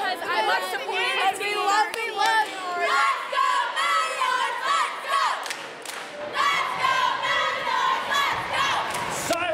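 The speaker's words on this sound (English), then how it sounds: "The crowd is into it." A basketball game crowd cheers and chatters loudly and continuously after player names are announced, with shouts and whoops rising in waves through dense voices.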